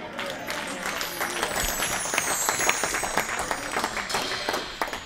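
A church congregation applauding, with a steady wash of many hands clapping at moderate distance and lasting several seconds.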